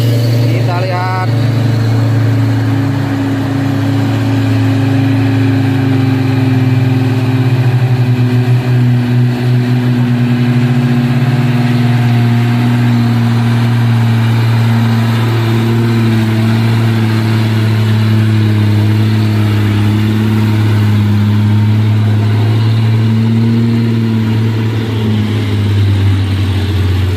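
A Giga truck's engine on the road, a steady low rumbling drone that holds for the whole stretch with slight shifts in pitch, close and continuous without pauses.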